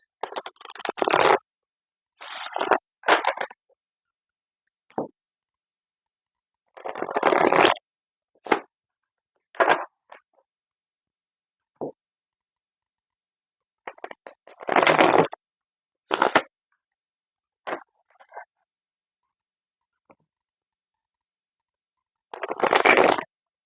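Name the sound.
tarot cards being shuffled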